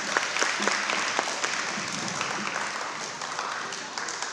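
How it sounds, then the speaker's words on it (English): An audience at a parent university session applauds the panel, steady dense clapping sustained for several seconds at moderate distance, with a faint voice underneath. "Let's give the panel a round of applause"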